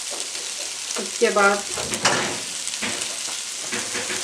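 Spices sizzle in a hot pan for a few seconds while being stirred for fried chicken rice, a steady close hiss with scraping stir strokes as a voice speaks briefly over it.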